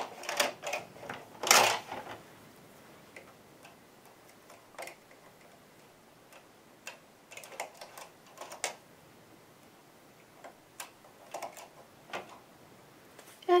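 A knitting machine works a mitten, giving scattered sharp mechanical clicks and clacks at an irregular pace with quiet gaps between them, close by.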